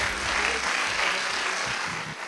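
Audience applause at the final evening of a new-voices singing contest, a broad sustained wash of clapping from a crowd, with some low rumbles beneath and a slight fade at the close.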